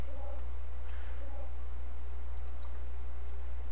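Several mouse clicks from working in the SandStorm level editor for Steel Storm: Burning Retribution. The clicks are light and sparse, set over a steady low hum.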